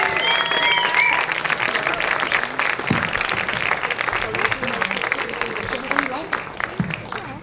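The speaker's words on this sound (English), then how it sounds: "Give them a round of applause" An audience at a live panel event on sex and psychedelics applauds the panelists as they come up, with loud sustained clapping and crowd noise throughout and a voice briefly heard under it.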